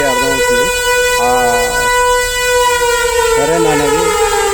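A civil defence emergency siren blares during an Indian war-awareness drill, a loud, sustained tone with rising and falling wavering pitches layered over it throughout.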